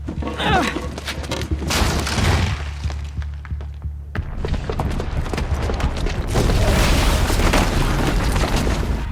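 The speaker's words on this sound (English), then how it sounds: "the booby trap on the bomb downstairs is gonna get set off" A bomb's booby trap explodes in Horizon Zero Dawn with loud, rumbling booms and bursts that carry on as dense blasts and debris across the clip, with game voices mixed in.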